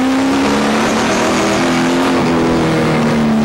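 A V8 race car roars loudly as it accelerates out of a bend at Winton Raceway, the engine note climbing steadily with no talking.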